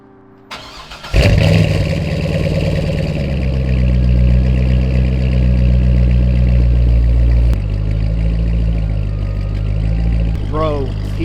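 Cold start of a C6 Corvette V8: a short cranking, then the engine catches with a loud rev flare and settles into a steady, deep idle that drops to a lower rumble partway through, close by.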